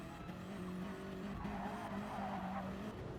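A race car in Gran Turismo Sport's Nürburgring 24-hour endurance race oversteering on a corner exit, with a sustained engine drone and wavering tyre squeal as the car skids, steady and fairly quiet.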